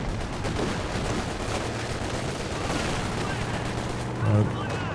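Walking Stuka rocket artillery firing in the strategy game Company of Heroes 2, a dense rumbling barrage of blasts and crackling explosions that runs throughout, with a brief tonal burst near the end.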